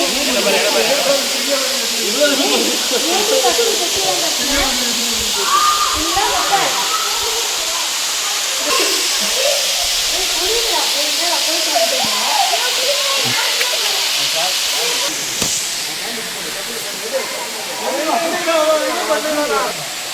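Water crashes down steadily at Kailasakona waterfall, making a continuous broad roaring hiss that lasts throughout, while people talk over it.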